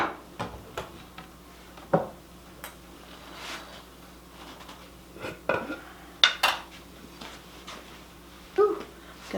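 Scraping leftover food out of a skillet: scattered metallic scrapes and clinks of a utensil against the pan, in short irregular bursts over a quiet background hum, with no talking.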